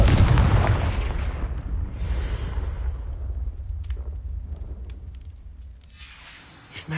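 A Confringo spell explosion in Hogwarts Legacy: a loud, booming blast opens, followed by a long rumbling decay that fades over several seconds, with a faint pop at the end.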